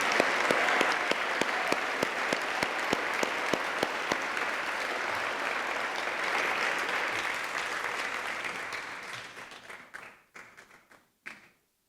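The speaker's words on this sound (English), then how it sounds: "definitely give these people a round of applause here today" Audience applause at a Father of the Year awards event, crowd clapping with some sharp individual claps standing out, sustained for several seconds before thinning into scattered last claps and fading out.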